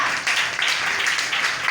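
A church congregation claps and applauds during a French-language sermon, a short dense burst of steady clapping, fairly loud and close.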